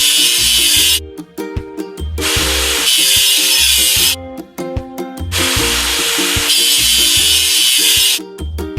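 Scrubbing and grinding effects play as rust is removed from a machine in a children's house-building truck game, loud bursts of harsh noise alternating with short playful melodic tones in a repeating pattern.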